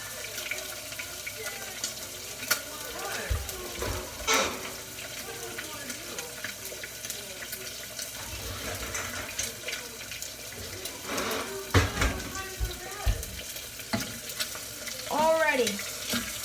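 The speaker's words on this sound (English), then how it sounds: "It will instantly make a stir-fried egg." An egg fries and sizzles in a pan for stir-fried egg, a steady crackling hiss with intermittent clatters and scrapes, running water sounds nearby, and occasional voices in the background.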